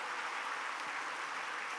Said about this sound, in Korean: 우리 친구들에게 잘했다고 다시 한번 박수로 격려해 주시기 바랍니다